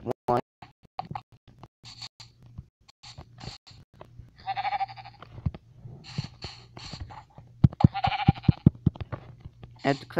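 Sheep bleat in a video game, several wavering bleats coming in short bursts amid steady talking and a low background hum.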